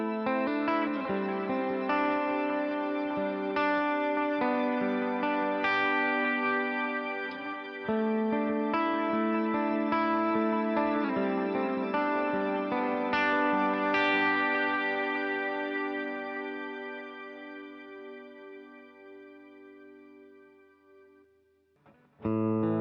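Electric guitar run through a MIDI-recalled preset combining several effects pedals, ringing chords and notes with a shimmering, echoing sustain that slowly fades toward silence near the end, with a brief sound at the very close.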